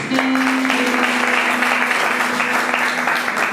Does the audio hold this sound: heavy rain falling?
no